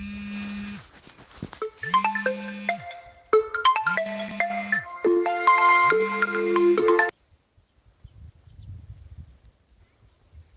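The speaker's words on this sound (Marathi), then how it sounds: "मध्येच फोन आला" A phone ringtone plays a looping electronic melody in four bursts, loud and close, then cuts off, leaving faint rustling.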